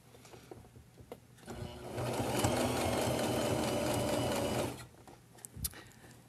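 A sewing machine stitches fabric for a cell phone charger case in one steady whirring run of about three seconds, with quiet handling clicks before and after.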